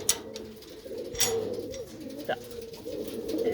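Pigeons sold as breeding pairs in a Ludhiana district village loft coo softly, with a low murmur of cooing and faint background noise; a brief sharp rustle or call cuts through near the middle.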